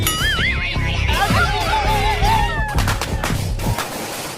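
Loud, close Diwali firecrackers: wavering whistles rise and fall, then a rapid cluster of sharp cracking bursts before it cuts off.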